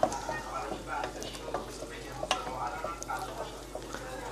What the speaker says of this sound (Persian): اول سوسیس سرخ میکنیم دیگه، سوسیس سرخ میکنیم